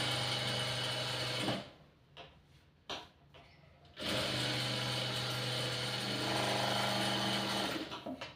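A sewing machine stitches a lined blouse, whirring loud and close in two bursts separated by a pause filled with soft clicks and handling, with no talk.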